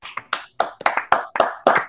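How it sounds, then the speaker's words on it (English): Hands clap in a short ragged burst of about eight sharp claps, close and loud, uneven in timing like a small group trying to applaud in unison. "everybody applaud at the same time"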